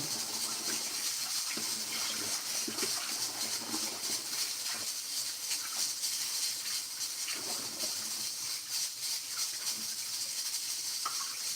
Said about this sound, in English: the water is getting much cleaner, so that means the rice is getting cleaner